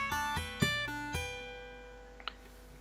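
Two-hand tapping on guitar, a few bright plucked notes sounded by hammer-ons and pull-offs in quick triplet groupings, each ringing out and decaying, with a faint tap near the end; close, no voice.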